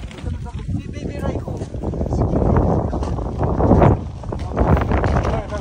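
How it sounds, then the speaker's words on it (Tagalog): Gusty, cold wind roars across the microphone in surging waves while snow sledding at Mt Gozaisho, loud and close, with faint voices and movement underneath. "Grabe ang hangin, no?"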